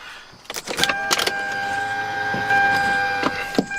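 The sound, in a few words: car engine starting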